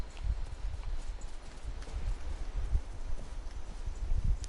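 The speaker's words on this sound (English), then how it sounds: "Get the fine two horses up here." Two horses' hooves clip-clop in a video game, a steady, uneven clatter of hoofbeats running the whole time at moderate loudness with no voices.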